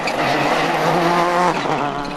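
A rally car at the 2004 Rally of the Lakes sliding on a stage, its engine wailing at high revs with a rising, shifting pitch and tyres scrabbling, loud and close, then easing slightly at the end.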